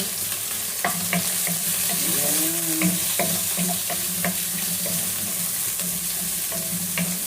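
Sliced white onion sizzles steadily in a hot pan, with a spatula scraping and stirring through it in repeated close strokes.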